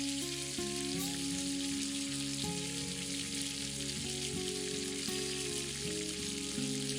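Spices and pre-fried potatoes sizzle steadily in hot oil in a pan, a continuous bright crackle with no pauses and a faint tonal hum running beneath it.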